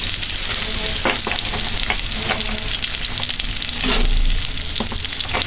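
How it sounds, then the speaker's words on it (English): Ingredients for callaloo fry in a pan with a loud, continuous sizzle and occasional crackles, with no talking. "Allow that to fry for about 30 seconds."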